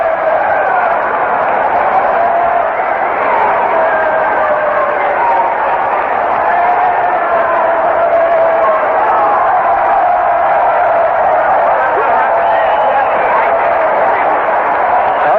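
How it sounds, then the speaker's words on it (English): Steady, dense roar of a baseball stadium crowd cheering during an Orioles versus Yankees game, continuous and loud throughout with no breaks, distant voices blended into one wash of noise. "the crowd is cheering everything"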